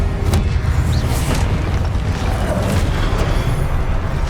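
A Confringo blast spell goes off in Hogwarts Legacy as a loud, low, continuous booming roar that rumbles on without a break for the whole stretch.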